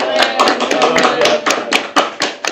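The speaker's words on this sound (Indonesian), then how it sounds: "Tepuk tangan dulu." Students clap at a school geophysics outreach talk, a quick run of sharp, separate hand claps, close and fairly loud, loosening and thinning toward the end.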